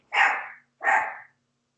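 Two loud, close dog barks about half a second apart, each a full, rough woof, with silence between and after.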